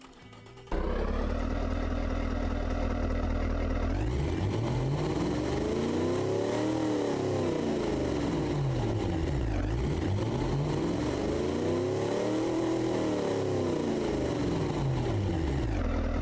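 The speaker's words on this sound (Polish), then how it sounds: "Możemy sobie tutaj posłuchać, zobaczyć, jak ten silnik pracuje." A V8 engine for a 1955 luxury sedan, simulated in the car-design game Automation, idles low and then revs up and down in smooth, swelling waves, loud and steady with no talking.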